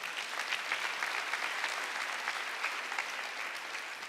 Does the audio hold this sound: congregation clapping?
yes